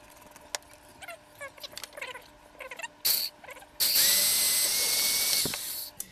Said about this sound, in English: we're going to drill a 1/4 inch hole with the bit